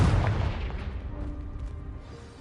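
Confringo blasting spell explosion in Hogwarts Legacy: a single heavy, close boom bursts out at once, then a long rumbling decay with debris fading away.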